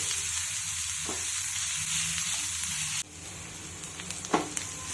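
Onion sizzles steadily in a hot pan, a dense continuous hiss that drops in level partway through, with a few faint stirring scrapes.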